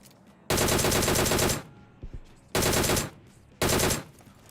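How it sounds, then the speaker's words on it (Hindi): Three loud bursts of rapid automatic gunfire in PUBG Mobile, each lasting about a second or more, separated by short quiet gaps with a few faint clicks. "ओह कोई गोली चला रहा है"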